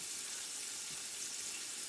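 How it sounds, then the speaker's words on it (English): A kitchen tap runs steadily while food is rinsed under the stream, a soft, even hiss of water throughout, fairly quiet with no talking. "Rinse it off."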